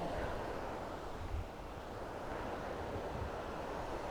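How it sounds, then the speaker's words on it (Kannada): A waterfall seen from a mountain road gives a steady, broad rushing roar of moving water, heard at some distance, with no voices over it. "ನೋಡಿ ಫಾಲ್ಸಲ್ಲಿ ನೀರು ಹೋಗ್ತಾ ಇದೆ ಹಂಗೂ"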